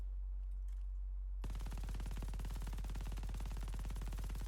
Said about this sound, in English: This is me shooting all 125 bullets, not touching the right analog stick